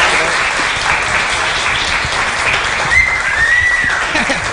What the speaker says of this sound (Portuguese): uma salva de palmas para João Paulo Cuenca